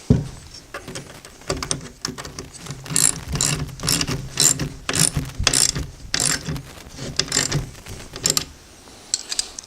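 A ratchet wrench tightens bolts on a wooden folding sawhorse, with repeated rapid clicking bursts in an uneven rhythm, close and fairly loud, pausing briefly between strokes.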